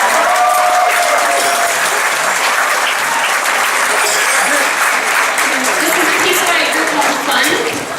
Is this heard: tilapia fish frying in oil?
no